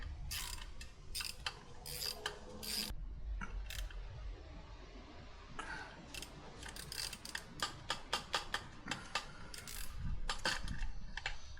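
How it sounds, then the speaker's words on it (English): A glow plug being threaded back into the cylinder head of a Land Rover Defender TD5, with rapid ratchet clicks in bursts and metallic tool handling close up. "number 4 glow plug is in. Let's just screw it back."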